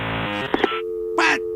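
Telephone dialing tones from an advertisement, a burst of overlapping loud beeps and electronic tones followed by a steady held tone and a short harsh blip, with no talk over them.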